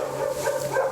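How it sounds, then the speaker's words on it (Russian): Dogs barking briefly, a short fairly loud burst of yapping and whimpering over a steady background hum, with no talking. "Сегодня у нас собаки"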